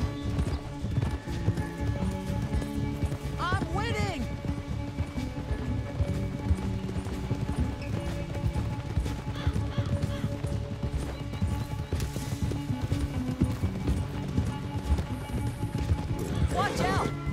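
Rapid, continuous hoofbeats of a galloping horse in Red Dead Redemption 2 with a couple of whinnies, layered under music and game effects.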